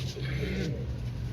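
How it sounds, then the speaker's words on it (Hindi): Pigeons in a loft give faint, low coos under a steady hum of background noise. "कबूतर।"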